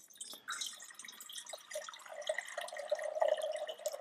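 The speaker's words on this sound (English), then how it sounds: "So I'm using water from the Brita." Filtered water from a Brita pitcher pours into a pan, a quiet splashing trickle that starts after a brief drip and grows steadier and fuller toward the end.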